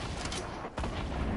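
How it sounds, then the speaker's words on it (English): Video game gunfire in a firefight around a fort, a dense, loud barrage of shots rolling on continuously with a brief dip partway through. "I'm shooting more."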